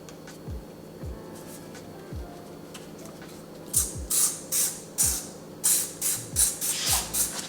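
Cleaner sprayed onto the outside of a dirty microwave: a few short, separate trigger spritzes at first, then a quicker run of louder hissing sprays, close by with no talking.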